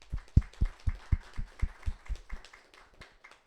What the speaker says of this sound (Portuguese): Então, uma salva de palmas aí para todas as mulheres.